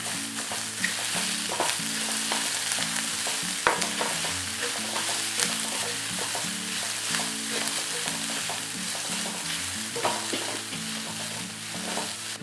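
Soya chunks and rice stir-fried and tossed in a pan with red chilli powder, giving a steady loud sizzle broken by repeated scraping and clinking of a spoon against the metal, with a low hum underneath.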